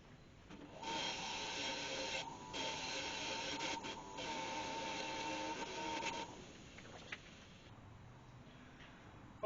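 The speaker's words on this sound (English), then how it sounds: "I'm just going to clean the shoe up on the wire wheel now" A brake shoe from a Land Rover Series One is pressed against a spinning wire wheel, giving a steady, harsh whirring grind that holds for several seconds, briefly dips, then fades out to quiet.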